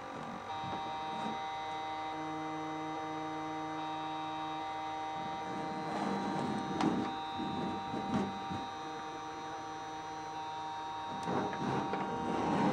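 A failing Conner 20 MB hard drive from a Compaq Portable III, powered on an external supply, giving a steady whining hum with several tonal drones, occasional clicks and rougher grinding surges, close and fairly faint.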